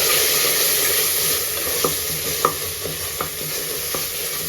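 Coriander powder, chilli powder, turmeric and homemade vangibath powder frying together in a pan, a steady close sizzle broken by about five soft spoon scrapes and taps, no voices.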